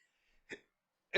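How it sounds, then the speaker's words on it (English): A single short, abrupt hiccup close to the mic, followed a moment later by a brief vocal burst. "Oh man, that was a hiccup."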